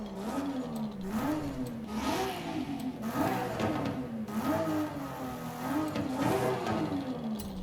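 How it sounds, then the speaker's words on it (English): A Nissan R34 with an RB26 engine revs in Forza Horizon 5, its pitch climbing and falling in repeated waves of throttle blips, loud and mechanical with no talk over it. "You can get it to rev really high as well."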